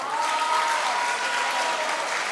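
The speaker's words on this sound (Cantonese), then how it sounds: "不如俾啲掌聲佢哋好唔好啊？" An audience at a secondary school singing contest claps in a full, steady burst of applause that holds at even loudness from start to finish.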